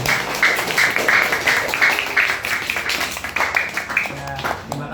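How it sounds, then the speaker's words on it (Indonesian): An audience at a Ramadan talk show with orphans claps for Yayasan Kamis. The clapping is steady and continuous over a noisy, reverberant hall, with some voices mixed in. "Tepuk tangan buat Yayasan Kamis"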